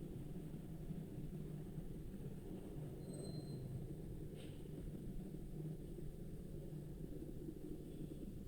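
A suburban train on the Velachery–St Thomas Mount line starts to move at the station. It gives a steady loud rumble of wagons with faint high wheel squeals over it.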